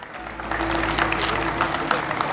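Audience applause at a nighttime coal festival in Las Arrias, a steady crowd clapping sustained for a couple of seconds, fairly loud and unbroken.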